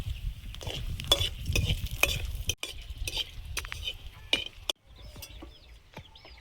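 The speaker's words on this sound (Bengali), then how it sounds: "তেলে একটু শুকনো লঙ্কা ভেজে নেব।" Hot oil crackles and spits as dried chilies fry, with scraping stirs and sharp clicks; the sizzle thins out toward the end.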